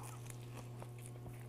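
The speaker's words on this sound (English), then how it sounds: "I'm gonna eat this burger." Someone bites and chews a homemade Greek burger right at the mic, a few soft crunchy, wet chewing sounds over a steady low hum, with no talking.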